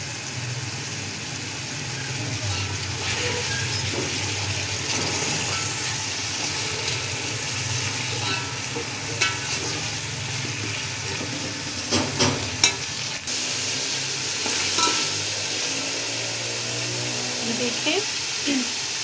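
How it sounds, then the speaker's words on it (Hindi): Peas, potatoes and garlic-ginger paste fry in a pan for aloo matar pulao, giving a close, continuous sizzle with occasional stirring scrapes and clicks. "मटर और लहसुन अदरक का पेस्ट भी फ्राई हो चुका है।"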